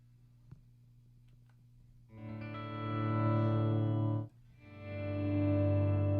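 Electric guitar notes fade in smoothly from silence, two slow swells rising to a sustained, dry, distorted tone with a brief gap between them.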